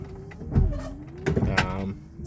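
Squeaking from a car windscreen wiper modified to a single-wiper setup, a few short rubbery chirps and squeals as the blade sweeps across the glass, close up over a faint mechanical hum.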